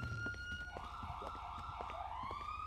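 A siren wails with a rising and falling tone, fairly faint and distant, over a low rumble of traffic.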